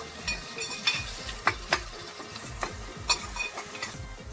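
Onions with salt frying in a pan, a low steady sizzle with faint scraping stirs and small clicks of a utensil recurring irregularly, no talking.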